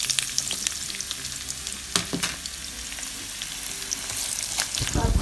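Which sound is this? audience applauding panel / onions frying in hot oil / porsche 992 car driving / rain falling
onions frying in hot oil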